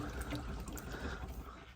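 Water trickles and pours out of a plumbing pipe being drained during a water softener and filtration installation, a steady close splashing flow with no voices.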